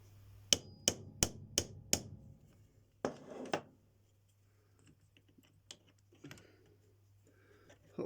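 A hammer strikes a 3D printed caster wheel of 90% solid infill, knocking it into place with five sharp evenly spaced blows, then a few scattered knocks and handling clicks in a quiet room.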